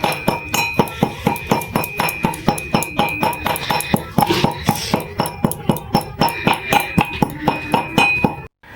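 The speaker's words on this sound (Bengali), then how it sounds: "আমি জিরে আর শুকনো লঙ্কা ভেজে গুঁড়িয়ে নিয়েছি হামাল দিস্তিতে" Dried chilli and roasted cumin pounded in a mortar and pestle: a steady run of sharp, evenly spaced metallic clinks and thuds, loud and close, continuing for several seconds with no talk.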